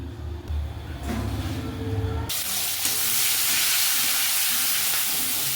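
Ghee goes into hot oil left from frying potatoes for a chicken dish, a quiet low simmer jumping at once into a loud, steady broadband sizzle that holds to the end.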